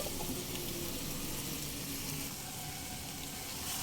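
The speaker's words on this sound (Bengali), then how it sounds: "এক মিনিট একটু কষিয়ে নেব সমস্ত মশলার সঙ্গে ভেজে নেওয়া আলু আর সয়াবিন একটু কষিয়ে নিয়েই" Fried potatoes and soybeans are tossed in a cooked spice paste, giving a continuous, even sizzle with a faint hiss that stays steady throughout, with no talking over it.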